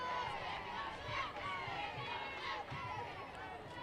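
Chatter and murmur from a crowd at a Michigan vs. Indiana college softball game in Ann Arbor fill the air as a steady, moderately distant wash of voices with occasional louder calls.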